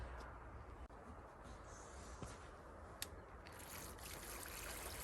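Water from a homemade waterfall on a test run, about five to six liters trickling in a soft, steady, faint wash with a few small splashes, no voices.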